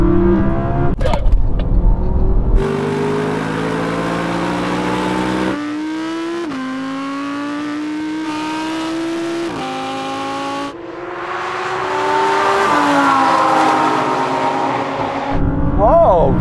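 Audi R8 cars accelerating in a drag race, engines climbing through rising revs with distinct gear changes and brief drops between shifts, loud and close, ending with a sharp burst.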